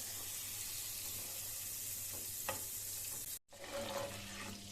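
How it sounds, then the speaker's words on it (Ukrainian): Forty grams of butter melting in a hot pan gives a steady, close sizzle and frying hiss, with a brief cut partway through and no talk. "оце в мене 40 грам вершкового масла і я його сюди розтоплюю"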